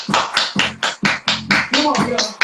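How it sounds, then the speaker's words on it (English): People clap their hands in a steady, evenly spaced beat of about eight sharp, loud claps, with a voice briefly audible near the end. "Everybody clap your hands."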